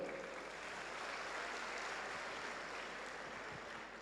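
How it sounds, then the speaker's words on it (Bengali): A crowd applauds the prime minister, a dense, steady wash of clapping that holds at an even level for several seconds with no break. "আজকে দিনে সর্বোচ্চ হাততালি মাননীয় প্রধানমন্ত্রীর জন্য"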